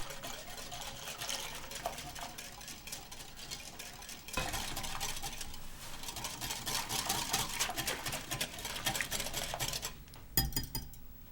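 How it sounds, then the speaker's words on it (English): Whisk beating cream into eggs for crème brûlée custard in a bowl, a steady close scraping and clinking of metal against the bowl that continues throughout, with no talking. "Now slowly add the rest of the cream while constantly whisking."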